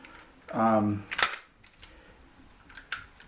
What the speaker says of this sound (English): You flip the takedown lever, and bang, you're ready to go